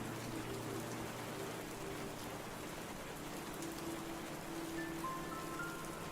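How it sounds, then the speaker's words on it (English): Steady hard rain pours in the video game Burrows, a dense continuous hiss with no gaps, with faint tonal game music underneath. "It starts raining. Hard."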